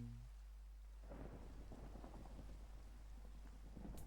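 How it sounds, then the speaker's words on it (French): A thunderstorm in a Minecraft-style survival game, with a deep thunder rumble rolling in after a second and steady rain hissing throughout, all under a low droning hum. "L'orage va s'arrêter."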